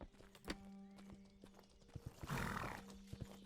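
A horse in Mortal Online 2 clops a few hooves and lets out a short whinny, all quiet and brief.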